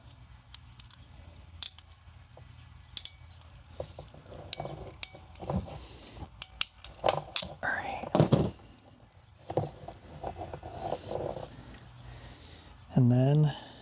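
Crimp tool squeezing a connector onto stiff RG400 double-braid coax while building a cable for a portable Kenwood TM-D710GA radio: scattered close metallic clicks, ratchet snaps and dull thunks at an uneven pace, with a faint low voice murmuring in places.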